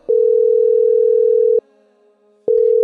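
Telephone in an office in an Indian village ringing: long, steady electronic tones, clear and alone, separated by a short silent pause before the next tone begins.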